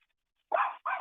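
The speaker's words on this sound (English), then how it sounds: "Yeah, that's my dog. He just barked." A dog barks twice in quick succession, close and sharp, after a brief near-silence.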